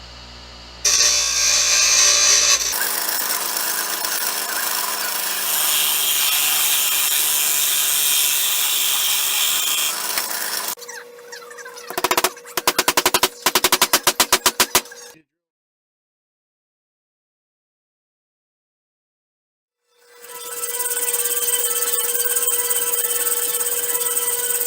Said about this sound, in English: So I'm going to have to grind this one down and just